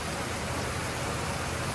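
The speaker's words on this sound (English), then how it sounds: "Everybody's trying to stay out of the rain as much as we can" Heavy rain pours down steadily around a shed, a dense, even hiss of drops with no pauses and no voices.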